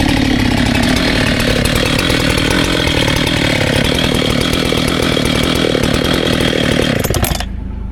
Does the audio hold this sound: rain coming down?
no